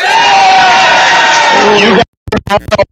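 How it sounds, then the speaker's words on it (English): A crowd at a Buffalo Bills training camp gathering cheers, whoops and claps loudly for about two seconds, then cuts off abruptly, followed by a few short bursts of sound. "Clap or cheer for flats."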